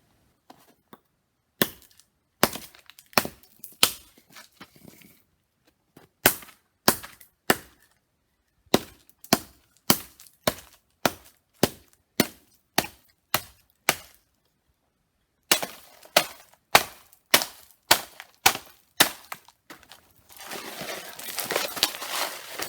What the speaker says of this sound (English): I'm going to strike it repeatedly with my trend club and see how much damage I can do to this solid block of ice